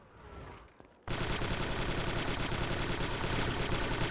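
Rapid automatic gunfire from Star Wars Republic Commando on the original Xbox, a brief quiet lead-in, then a loud, sustained fusillade of close shots that never lets up.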